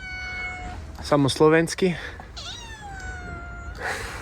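A cat meows several times, including a drawn-out, wavering meow and shorter cries, close and clear over a quiet background, while a person speaks briefly between the meows.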